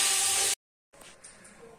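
A pot of boiling rice lets off a loud, broad hiss of steam for about half a second, then cuts off abruptly, leaving only faint kitchen noise.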